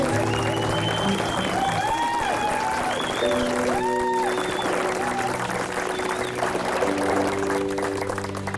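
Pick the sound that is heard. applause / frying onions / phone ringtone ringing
applause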